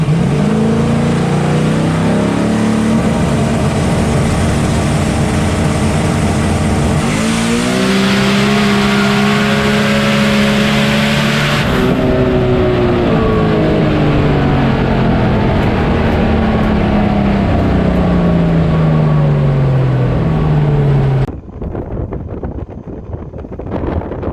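White Ford Mustang drag racing car making a run: a loud, close engine rev with pitch climbing through several gear changes for about twenty seconds, with wind buffeting the microphone, then cutting off abruptly.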